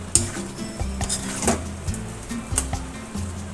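Pumpkin and potato curry in a pan with very little gravy, stirred in short repeated scrapes and clinks of a utensil against the metal, close and moderately loud, with a faint sizzle underneath.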